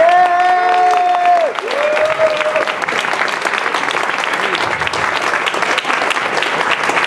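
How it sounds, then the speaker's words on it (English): A crowd at a get-out-the-vote political rally bursts into loud, sustained applause and cheering after a speaker's voice, and the dense clapping carries on until the end. "Can we please give a hand to Andrew Zwicker, who's right there."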